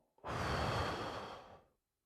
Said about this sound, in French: on va faire une respiration